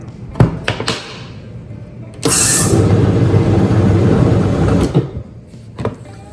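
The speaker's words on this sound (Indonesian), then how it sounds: "Nah, tinggal di blender sedikit aja ya." A blender whirs through pempek dough made with egg white and seasoned with pepper: a short loud burst of steady grinding for about two and a half seconds, then it cuts off, with a few light kitchen knocks before and after.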